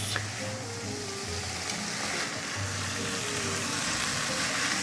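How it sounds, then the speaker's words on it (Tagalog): Spring roll filling is sautéed in a pan, giving a steady close sizzle and hiss with faint stirring, while soft background tones and murmurs sit underneath. "Spring rolls, guys ginigisa na ni Maring Hera yung pang spring rolls."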